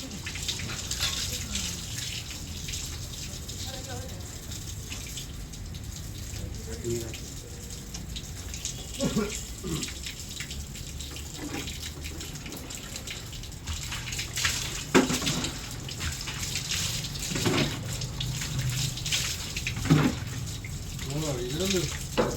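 Water flushes out of a solar water heater being cleaned, a continuous splashing gush running steadily at moderate level, with people talking intermittently over it.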